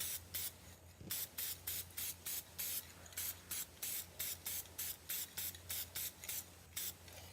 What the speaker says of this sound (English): I got to spray it